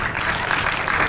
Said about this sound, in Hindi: आप तालियां बजा सकते हैं